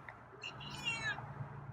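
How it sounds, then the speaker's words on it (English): A single drawn-out meow from a hungry feral cat, nearby but faint, rising then falling over a low background hum. "Wow, some vigorous meow."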